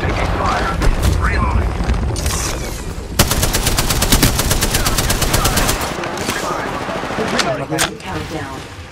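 Rapid gunfire in the Octane video game, with dense machine-gun bursts and sharp shots rattling almost nonstop, loud and close, mixed with mechanical clanks and a voice talking over it.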